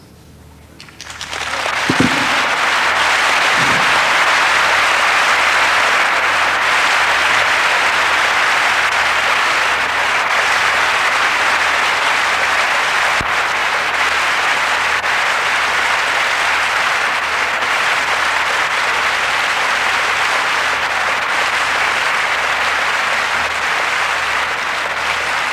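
A church congregation breaks into loud, sustained applause that swells within the first couple of seconds and then roars on evenly for over twenty seconds, close and full with no speech.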